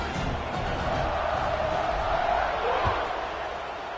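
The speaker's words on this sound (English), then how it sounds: "They're set to kick it off, and this crowd now ready to get behind them." Broad, steady roar of a large American football stadium crowd at kickoff, loud and sustained throughout with a slight swell in the middle.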